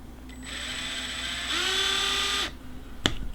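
A small power drill whines as it bores through the bottom side of an NES MMC3 TLROM circuit board. The close, steady whir strengthens midway, cuts off after about two seconds, and is followed by a sharp click.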